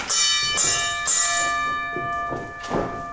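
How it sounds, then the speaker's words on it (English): A fight bell rings out in bright, resonant strikes, three sharp clangs close together that fade with ringing overtones, before a softer follow-up. "ring the bell."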